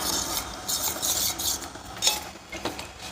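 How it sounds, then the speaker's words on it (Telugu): A spoon stirs custard powder into milk in a bowl in a hostel room, a quick repeated scraping and swishing rhythm with small clinks against the dish. "అప్పటి వరకు కస్టర్డ్ పౌడర్ మిల్క్ మిక్స్ చేసుకోవాలి. ఫుల్గా మిక్స్ చేసుకోవాలి ఫ్రెండ్స్."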